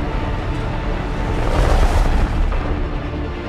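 Warship weapons fire in a science-fiction space battle, with heavy booming blasts and a rumbling swell peaking midway, loud and continuous, with no talk over it.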